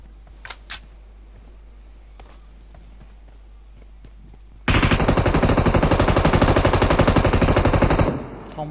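Loud sustained automatic gunfire from the shooter game PUBG Mobile bursts in after a quiet stretch, a rapid steady stream of shots lasting about three seconds before cutting off.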